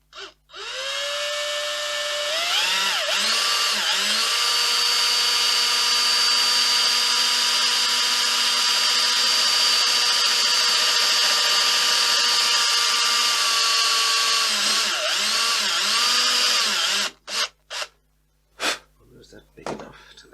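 A cordless drill rigged as a DIY bench drill whines steadily at high speed for a long stretch, pitch dipping briefly as it loads, then stops with a few short bursts.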